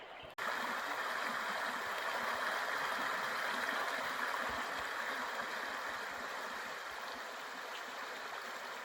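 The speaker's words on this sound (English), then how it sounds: "You can hear the creek." Jamison South creek flows near a secluded High Country campsite at Wrens Flat, a steady close rushing and gurgling of water heard alone after a brief start.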